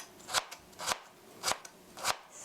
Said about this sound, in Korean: 아주 가늘게 채 썰어주세요.